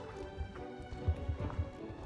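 Horse hooves clip-clop at a walk in the Star Stable Online game, a few soft, evenly spaced thuds under faint background music, quiet and close.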